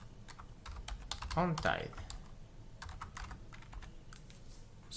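Computer keyboard keys tap in quick bursts as Excel column titles are typed, close and clear, while a person speaks briefly partway through.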